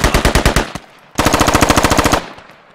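Automatic gunfire in the tactical shooter game Squad: two loud, close bursts of rapid rhythmic shots, a short one then a longer one, with a brief pause between.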